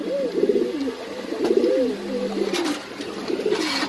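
Pigeons coo repeatedly at a pigeon market in Mirpur, close, throaty rolling calls in overlapping bursts over a faint background murmur.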